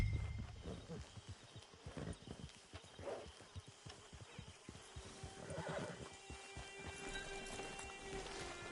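A horse whinnies amid rapid clip-clopping hooves in the video game Red Dead Redemption 2, with a light patter like rain in the background and faint voices.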